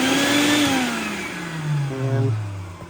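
A bucket-head vacuum motor, mounted on a wall over a 5-gallon bucket and fed through joined hoses, changes speed with a falling then rising whine, loud and close.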